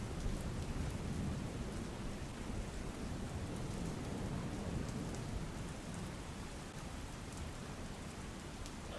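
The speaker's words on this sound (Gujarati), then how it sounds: "વલસાડ જિલ્લામાં મોડી રાતથી જે પ્રમાણે વરસાદ વરસી રહ્યો છે" Heavy, steady rain pouring down in Valsad district, a dense continuous roar of falling water heard alone with no voices.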